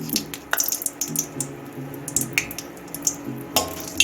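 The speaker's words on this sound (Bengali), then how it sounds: "কড়াইতে সর্ষের তেল দিয়ে আমি গরম করে নিয়েছি এখানে লাল লঙ্কা তিনটে আমি ভেজে নিচ্ছি" Three red chillies fry in hot mustard oil in a wok, giving off sparse, sharp pops and spatters with quiet gaps between them. The crackling is close but faint, with no talk over it.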